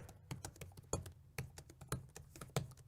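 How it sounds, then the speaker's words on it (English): Soft, muted taps on the quiet keyboard of an HP Elite Folio laptop come in quick irregular bursts, close and fairly quiet, with no talking. "not annoying their neighbor with the clicking and clacking of the keyboard"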